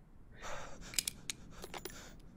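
A character in the video game This Is the Police 2 breathing heavily, a few quiet, ragged breaths and sharp gasping intakes in quick succession.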